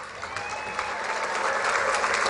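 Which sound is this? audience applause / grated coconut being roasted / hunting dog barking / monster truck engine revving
audience applause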